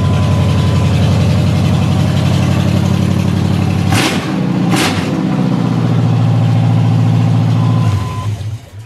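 A car engine idles with newly fitted exhaust headers and the rest of the exhaust not yet installed, a loud, rough, steady rumble close by, briefly interrupted by two sharp bursts before settling back and fading at the end.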